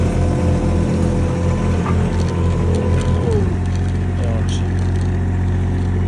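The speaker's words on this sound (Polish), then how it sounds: "Teraz tylny bęben pracuje." A Hamm road roller's heavy engine rumbles steadily, then the rear drum's deep, dense vibration kicks in partway through and continues as a loud, constant mechanical drone.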